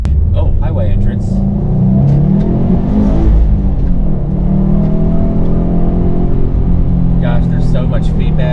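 Turbocharged manual car accelerating onto a highway entrance, engine note climbing through gears with a rising rumble and whirring tone, close and loud from inside the cabin, with a driver talking over it.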